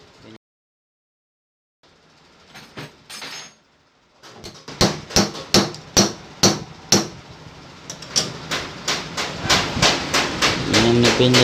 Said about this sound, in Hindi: ये अब हम पिन को ठोक रहे हैं।